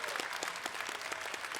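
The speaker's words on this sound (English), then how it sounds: "Round of applause for that play, please" Audience applause rings out at a gaming tournament after a standout play in a 1v1 match, a dense, steady clapping that carries on for the full stretch.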